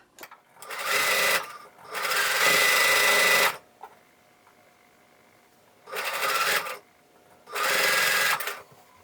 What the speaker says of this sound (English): kind of chain stitching and adding on as I go